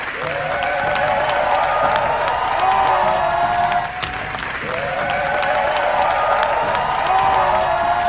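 A standing ovation for Brendan Fraser, with a large crowd applauding loudly and steadily, dense and continuous, and occasional cheers rising through it.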